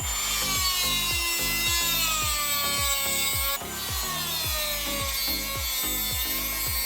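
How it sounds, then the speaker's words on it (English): Harsh, rhythmic grinding down of metal chain pins on a two-stroke motorcycle chain, with a repeated back-and-forth stroke and high ringing overtones, steady and close up, with no talking. "we're gonna grind down the end of the pins here"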